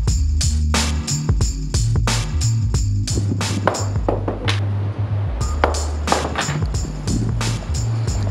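A rugged Blackview BV9600 Pro smartphone dropped repeatedly onto tile, giving a rapid series of sharp, hard clacks and clatters over a steady low background hum, with no talking.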